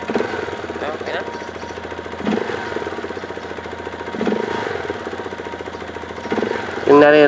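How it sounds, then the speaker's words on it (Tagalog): A Rusi Flash 150i scooter idles with a steady rapid mechanical ticking from its fuel injector, close and loud, while someone talks over it throughout. "Yung naririnig nyo guys na malagitik sa injector yan na malagitik siya yung injector"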